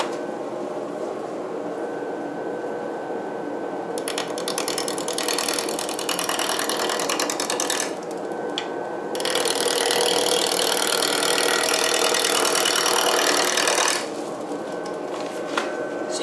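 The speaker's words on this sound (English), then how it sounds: "I'm going to turn on my dust collector because it gets loud in here" A workshop dust collector roars as a wooden wand is turned on a lathe; a steady motor hum runs throughout, with bursts of loud broadband rushing and cutting noise switching on and off in several stretches.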